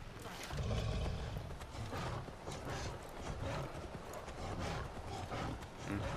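Horse hooves clip-clopping in the Far Cry Primal video game, a steady rhythmic trot that continues throughout at moderate loudness over a dense background of game ambience.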